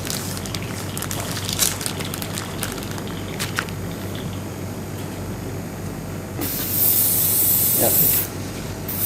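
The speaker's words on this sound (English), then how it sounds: "There's the airbrush." An airbrush sprays paint onto a figure in a short, loud hiss of about two seconds after background room noise and clicks; a voice speaks briefly.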